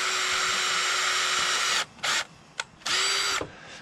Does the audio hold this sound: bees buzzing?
no